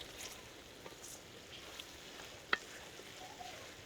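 Onions frying in a pan after ginger-garlic paste is added, for namkeen gosht: a faint, steady sizzle with soft crackle and an occasional utensil tap, no voices.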